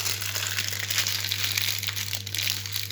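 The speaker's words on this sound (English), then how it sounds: "scrunch up the paper" Baking paper being scrunched up by hand close by gives a continuous dry crinkling and crackling for about three seconds over a steady low hum, with no talking.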